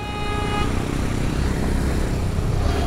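A Yamaha R15M motorcycle being ridden gives a steady, close engine drone with road and wind noise, and a faint high tone fades early on.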